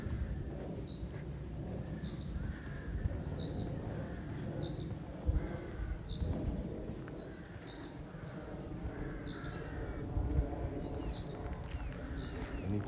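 An unidentified bird calls along the Heronsford loop nature walk, giving a string of short, high chirps spaced about a second apart over a steady outdoor background rumble.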